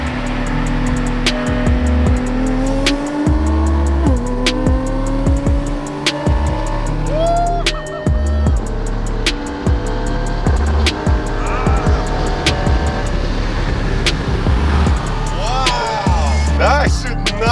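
A modified 750-horsepower Audi RS7 on E85 accelerates hard from a 50 mph roll against a Nissan GTR on the street, with a loud, sustained engine drone, rising pitch through gear shifts, and people talking over it.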